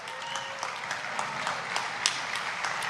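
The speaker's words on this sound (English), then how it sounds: "See, these are all people that are clapping that love their children." A crowd of political rally attendees applauds steadily, the dense clapping holding an even level throughout with a few sharper individual claps standing out, and faint background voices underneath.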